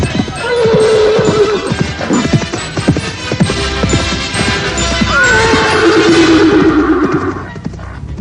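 A horse whinnies loudly in a Javanese martial-arts audio drama, two long shrill neighs rising and falling over a busy clatter of trampling hooves, close and echoing.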